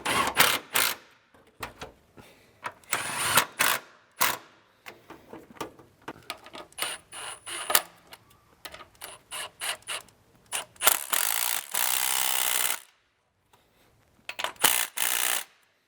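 A ratchet with a 13mm socket tightens bolts on an IS38 turbo upgrade in a Mk7 Volkswagen GTI, loud close clicking strokes in repeated bursts with brief pauses and a longer sustained run near the end.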